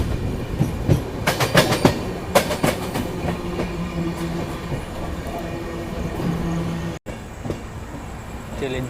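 The Subedarganj Dehradun Express rolls into Jhinjhak station during heavy rain with loud, close clickety-clack of wheels over rail joints and rumbling carriages, sharp clanks early on, then a steadier roll as it slows.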